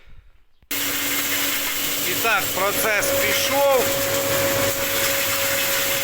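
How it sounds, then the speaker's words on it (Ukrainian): A DTZ grain mill grinding chicken feed, running as a steady, loud motorised whine and rumble that kicks in abruptly after a short quiet start and continues throughout while someone speaks over it. "Запустив свою ДТЗ-шечку і вже меле."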